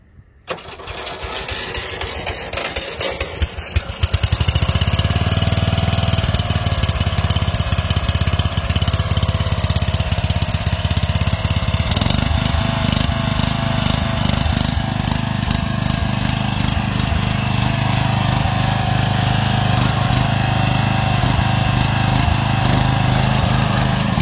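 A Westwood T1200 ride-on mower fitted with a swapped engine cranks briefly, catches, and settles into a loud, steady running drone that continues unbroken for over twenty seconds.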